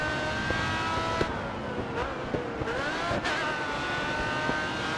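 Drift car engine in the racing game GRID Autosport, revving loudly and continuously with rising and falling pitch, occasional pops and crackles over steady engine roar.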